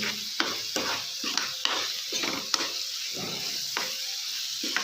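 Spatula stirring chopped coriander into potato gobi manchurian in a hot pan, giving a steady run of scraping strokes over a soft continuous sizzle, close and clear with no talking.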